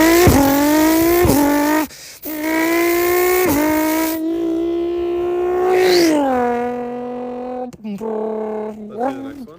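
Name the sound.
Nissan R35 GTR car engine and exhaust sound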